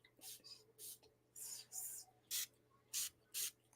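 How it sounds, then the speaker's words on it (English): Short hissing bursts from a spray bottle, about eight quick squirts in an uneven rhythm, close and fairly quiet against a faint low hum. "Listen, we're going to spray something."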